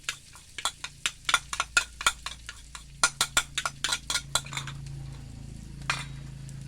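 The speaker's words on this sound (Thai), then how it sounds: "น้ำมันเดือดแล้วเขาก็ใส่พริกนะฮะที่เราตัก" Dried chilies are stirred in hot oil in a wok, with a quick run of sharp metallic scraping and clinking strokes over a low sizzle that thins out toward the end.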